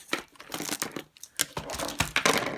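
Plastic packaging of new colouring pens crinkling and tearing open, a close run of irregular rustles, rips and crackles with short pauses between bursts.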